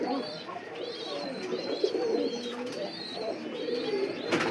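A pigeon at a fancy pigeon farm coos softly and repeatedly while feeding its chick, a close, rolling series of low warbling calls with faint chirps and rustling behind them.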